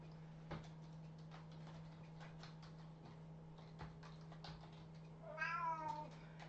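A house cat meows indoors near an open door, a short wavering call near the end that stands out over a steady electrical hum and scattered faint ticks and taps; no one talks.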